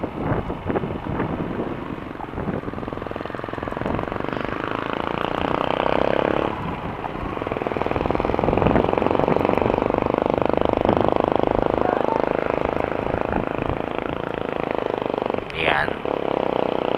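A motorcycle belonging to a rider named Japper runs steadily outdoors at dawn, engine drone mixed with wind buffeting the microphone, with people talking over it throughout.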